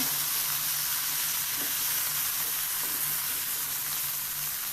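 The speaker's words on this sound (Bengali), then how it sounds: "শুধু পেঁয়াজ দিয়ে এগুলো আমি একটুখানি ভেজে নেব" Onions frying in a pan for a winter vegetable egg noodle soup give a constant close hiss and sizzle, steady and even throughout with no speech.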